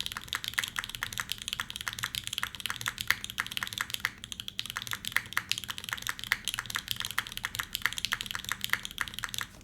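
Steady, fast typing on a custom mechanical keyboard with Popu switches and a GMK spacebar, dense close-up clacks in an unbroken stream for several seconds, no voices.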